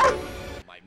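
Cartoon dogs bark and yip in a quick, loud burst at the start of a short animated scene from Earthworm Jim, followed by a brief fainter vocal sound.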